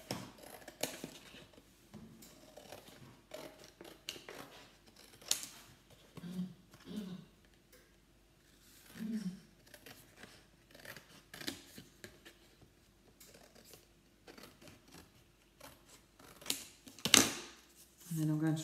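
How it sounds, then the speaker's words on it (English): Scissors cutting card templates for a pastillage ornament, a string of crisp close snips and crunches with pauses, some handling clatter, and a sharp loud snap near the end. "So I'm cutting those out of card."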